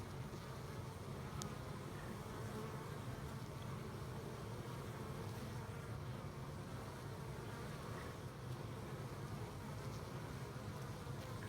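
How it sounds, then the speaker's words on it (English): Honeybees in a rescue hive cut out of a wall hum in a steady, soft, continuous drone at close range. "This is the rescue hive out of a wall. Pretty calm bees."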